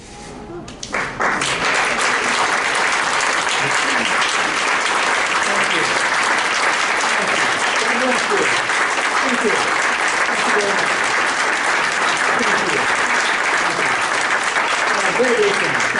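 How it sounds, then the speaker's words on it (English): Sustained, dense applause from a seated audience at a networking talk, a loud steady wash of many hands clapping that swells within the first second or two and holds, with voices mixed in beneath it. "One more round of applause."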